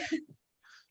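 A single quick sneeze, a short sharp burst followed by a brief faint breathy trailing sound.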